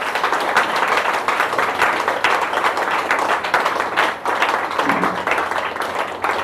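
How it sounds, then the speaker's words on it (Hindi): A crowd gives sustained, steady applause for the speaker's parents-in-law, a dense even wash of many hands clapping at moderate distance with no break throughout. "मैं चाहूँगी कि इनके लिए एक ज़बरदस्त ताली होनी चाहिए"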